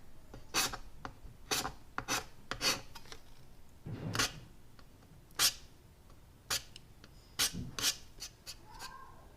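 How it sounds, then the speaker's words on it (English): A hand scraper rasps across a violin top, lifting crystals of old glue during a fingerboard reglue; a dozen short, crisp scraping strokes in irregular rhythm, close and fairly quiet, with no talk. "I'm going to just do one light scrape on the top here just to release some of the crystals of glue"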